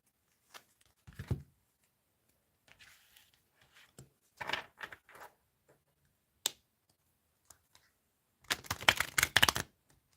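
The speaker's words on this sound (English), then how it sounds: "I'll shuffle the cards to get some fresh energy" Tarot cards are shuffled by hand in short, scattered bursts of soft ruffling and tapping, ending in a denser riffle near the end; the sounds are close and quiet against silence.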